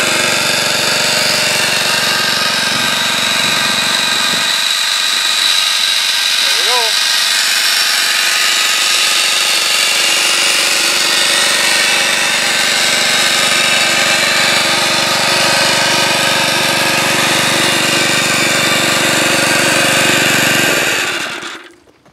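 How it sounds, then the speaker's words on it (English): A homemade water pump built from scrap and driven by a small engine runs steadily, a loud continuous mechanical drone with rattling texture that holds for about twenty seconds before abruptly cutting off. "But that's how it pumps."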